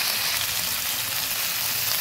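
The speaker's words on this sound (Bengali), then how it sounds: "ভালোভাবে কষিয়ে নিচ্ছি মাছের মাথাটা মশলার সঙ্গে।" A fish head frying with ground spice paste in a pan for a taro curry gives an even, close hiss of sizzling oil that runs steadily throughout without pauses or talking.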